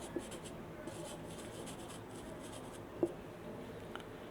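Pen or marker writing on a board during a physics class, a steady faint scratching under a quiet room tone with a couple of brief taps, no talk.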